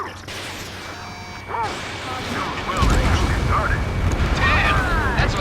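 Explosion of a pipeline target in the flight combat game Ace Combat 7, a deep booming blast swelling into a heavy rumbling roar under radio chatter and voices.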